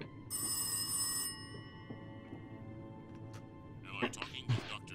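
A telephone rings in a short, bright burst near the start, in the horror video game Rise of Insanity. Quieter tones and a few sharper clicks and vocal sounds follow.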